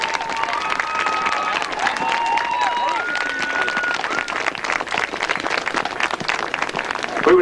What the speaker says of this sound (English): one more round of applause for the St.